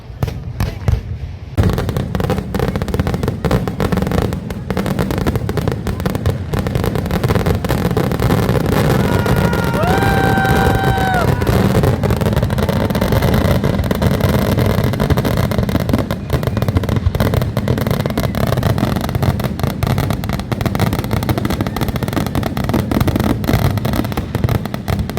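Fireworks at the Chelakkara Vela temple festival in Thrissur crack and boom in rapid, loud bursts over a constant crowd din, with a brief horn-like tone partway through and voices in the background.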